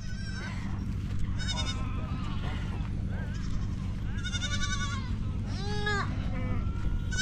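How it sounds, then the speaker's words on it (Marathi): Young sheep lambs at a Balumama palkhi camp in Shelu, Pune bleat repeatedly in overlapping cries over a constant low background hum, some calls near and others farther off. "लहान लहान मेंढ्याची पिल्लं आहे"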